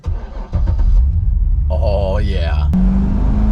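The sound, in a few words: Corvette with manual transmission starting and driving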